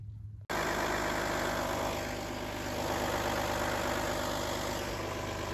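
Audi A6 with a V6 2.5 TDI diesel engine starts abruptly after a brief quiet moment, then idles loud and steady nearby on a freezing day, run to warm automatic gearbox oil; no voices.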